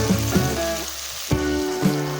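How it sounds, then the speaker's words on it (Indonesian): Garlic, shallots and red chilies stir-fry in hot oil, sizzling loudly and steadily with intermittent scraping stirs of the spatula in the pan. "Kita oseng-oseng semuanya ya. Ditumis dulu hingga sampai wangi dan harum."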